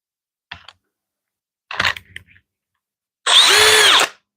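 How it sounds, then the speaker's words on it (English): A power drill whirs in short bursts: two brief blips, then a sustained high whine for under a second before stopping. "that's why my drill bit wasn't properly aligned."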